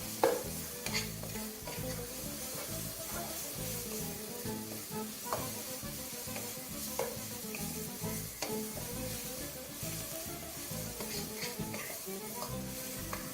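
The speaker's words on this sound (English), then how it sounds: "So to that I'm going to add my grilled bacon. I'm not going to cut it, I'm going to leave it as chunks. I'm just going to saute that." Chunks of grilled bacon sauté in a soup pot, a steady close sizzle broken by repeated scraping and clattering stirs, loud and continuous throughout with no voices.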